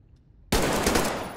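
A .45 automatic pistol fires in Metro Exodus, a sudden close, loud burst of rapid shots after half a second of near silence, ringing and decaying briefly.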